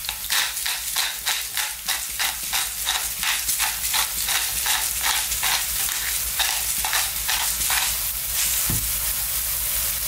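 Garlic and ginger fry in hot oil with a steady, close sizzle, broken by a regular run of stirring scrapes across the pan; no one speaks.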